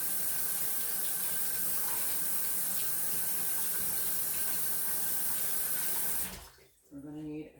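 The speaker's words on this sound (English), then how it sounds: "let me rinse my hands one more time." Tap water runs steadily into a sink while hands are rinsed beneath it, a continuous close splashing hiss that cuts off near the end, leaving a brief quieter moment.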